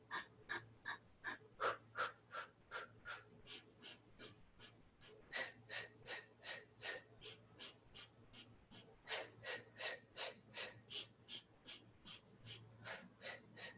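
Rhythmic, rapid nasal breaths during a yoga exercise with the hands moving before the heart, steady quick puffs repeating for over ten seconds, close and fairly soft with no talking.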